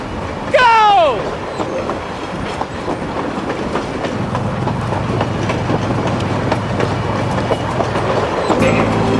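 A speeding train rumbles loudly and steadily with rail clatter, following a brief high screech near the start, and a voice is heard over the noise.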